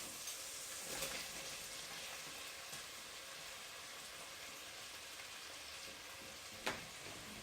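Onions frying in a pan, a steady quiet sizzle running throughout with a couple of brief soft knocks and no talking.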